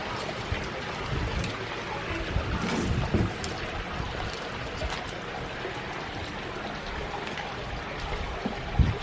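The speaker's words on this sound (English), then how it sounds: "So we're going to unplug our waterfall." A garden pond waterfall splashes and trickles steadily, its flow continuing as the pump is unplugged, with a few louder splashes near the end.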